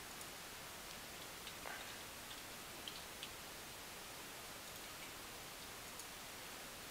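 Constant rainfall in the blocky sandbox game Godcraft forms a uniform wash of hiss, with a few light ticks and taps scattered through it and no speech.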